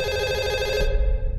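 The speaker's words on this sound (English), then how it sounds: "The phone was ringing." A telephone rings in the horror video game Fatal Midnight, a bright, steady electronic bell tone that cuts off abruptly after about a second, leaving a low rumble underneath.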